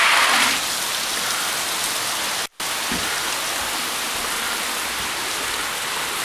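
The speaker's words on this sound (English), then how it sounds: "Oh look, it's raining again." Steady rain pours down outdoors, a dense continuous hiss with no talk; the wash cuts out abruptly for a split second partway through, then resumes at the same level.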